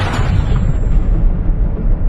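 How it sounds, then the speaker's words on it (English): Nearby Ukrainian artillery guns fire a volley: a heavy boom at the start that rolls off into a long, low, rumbling decay, loud and close. "you're surprised by the sound of artillery."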